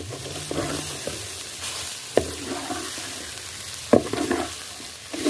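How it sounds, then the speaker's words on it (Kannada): Garlic tempering sizzles in a hot pan for a Tulunadu home recipe, with a few scraping stirs and clinks. The frying hiss is close and steady, and no one speaks. "ಬೆಳ್ಳುಳ್ಳಿದವೇ ಒಗ್ಗರಣೆ ಪಾಡೋಡು"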